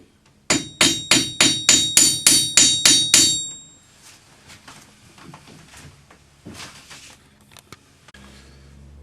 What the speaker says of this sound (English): hold the wire over your anvil, hammer the end to half its thickness